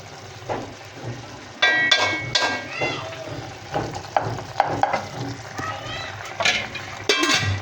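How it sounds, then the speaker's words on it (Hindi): Tomatoes frying in a pan as they are stirred, with a soft sizzle under scraping and clinking of a utensil against the pan, plus occasional voice in the background. "बस अब इसको हम भुनाई कर देंगे टमाटर को"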